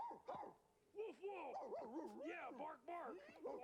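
A puppet dog in A Muppet Family Christmas gives a string of yips, whimpers and barks with rising and falling whines, fairly faint, a voice imitating the dog throughout.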